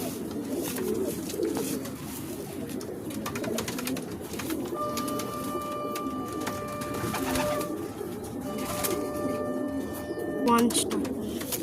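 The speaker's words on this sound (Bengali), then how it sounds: "এরকম ফুলশিরা পায়রা অনেকগুলোই দিয়েছে" Fantail pigeons coo softly and repeatedly close by, with fluttery bird sounds and a person talking over them.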